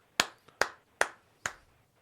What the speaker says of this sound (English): I'll give you a few claps for that.